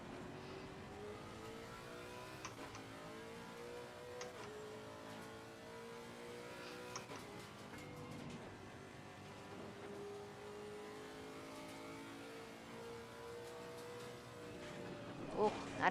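A Lexus RC F GT3 race car engine in a racing video game, holding a steady mid-pitched drone that rises and falls through gear changes and braking, with engine noise continuous throughout at moderate level.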